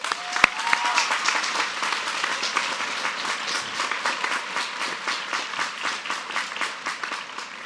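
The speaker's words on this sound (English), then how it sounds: "Please join me in a round of applause." Applause at a high school graduation ceremony, a crowd clapping steadily and fairly close with an even rhythmic patter throughout, a sharp click near the start.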